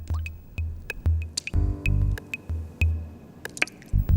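Liquid drips from an opened art book in a cartoon library's art section: a steady series of small, sharp drips and wet plops, some with a faint ringing tone, spaced roughly every few tenths of a second.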